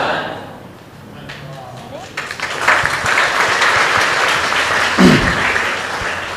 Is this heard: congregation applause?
yes